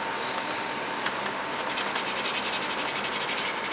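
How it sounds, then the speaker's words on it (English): Sandpaper of 320 grit rubs steadily over plastic model seams on a submarine kit, a close, continuous scratchy hiss that settles into quick back-and-forth strokes in the latter half. "with this 320 paper, it will cut through the plastic pretty quick"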